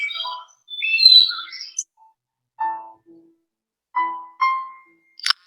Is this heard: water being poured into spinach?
no